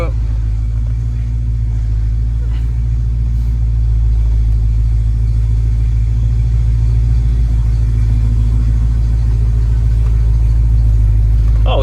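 A 1991 Ford Mustang GT's 5.0 V8 idles and backs up with a steady, loud low rumble that holds throughout, while a voice speaks over it.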